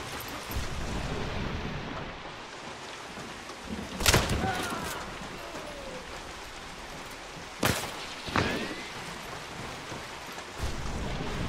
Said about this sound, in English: Dude, I can't really see anything with the rain.